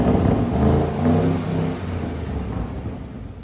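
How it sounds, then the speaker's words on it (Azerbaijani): A parked used car at a dealer lot is revved for a few seconds, its engine rising to a loud, close drone, then settling back toward a lower hum with no talking. "Bir dənə zəhmət olmasa qaz ver"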